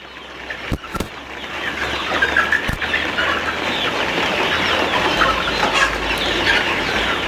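Many chickens cluck and murmur together in a steady, crowded chorus inside a poultry house on a chicken farm, with a few sharp knocks near the start.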